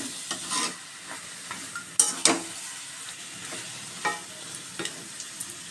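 A pan of katla fish head and cabbage curry is stirred with a few scraping, clattering strokes over a soft sizzle, with quiet gaps between the stirs.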